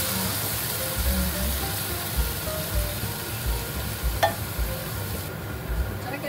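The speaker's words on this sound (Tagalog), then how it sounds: "Ilagay natin yung coconut milk. 1 cup of coconut milk." Coconut milk poured into a pan of sizzling vegetables for ginataang gulay, giving a steady crackling fry with soft stirring and bubbling, close and moderately loud, with no talking.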